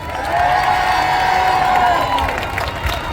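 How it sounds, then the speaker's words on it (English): A crowd at an outdoor Free Palestine rally in Boston cheers and applauds in a loud, sustained wash of massed voices and clapping, swelling briefly before easing slightly. "Give another big round of applause for Leah."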